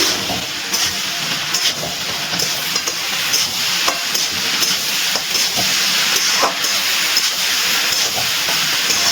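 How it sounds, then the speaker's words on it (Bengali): Spices stirred into a prawn and Malabar spinach curry in a pan, a constant close hiss of frying with repeated scraping strokes of a spoon throughout and no talk. "এবার সব কিছু ভালো করে মিশিয়ে নিচ্ছি"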